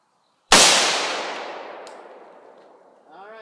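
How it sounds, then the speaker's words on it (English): A single loud gunshot cracks out at a can and rings off in a long decaying tail, followed by a faint brief sound near the end. "I'm gonna shoot that can first to see where it's going at."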